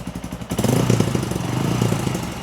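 A Honda CRF150L motorcycle fitted with a Kalkal exhaust pipe revs up sharply from idle, then holds a loud, throaty, pulsing drone close by.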